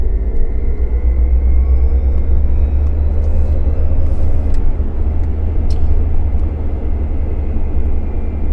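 A Jaguar XJR converted to electric drive accelerating, heard as a loud steady low rumble of road and motion noise with a faint high whine, continuous and close, with no talk.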